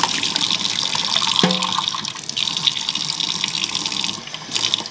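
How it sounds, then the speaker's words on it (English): Tap water runs steadily over Fluval FX6 canister filter parts being rinsed at a sink, a close, continuous splashing hiss with a brief knock partway through and no talking. "Give it a good rinse."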